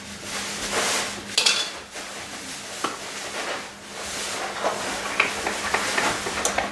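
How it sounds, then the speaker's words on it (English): Batter for fried Oreos being mixed in a bowl, with irregular clinks and scrapes of a utensil against the bowl and soft swishing stirring, close and moderately loud. "we're going to mix it up really well so that we have a nice batter for our fried Oreos"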